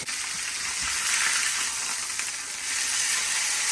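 Pork loin sears in a hot pan, giving a steady, close hiss and sizzle that holds at an even level from start to finish.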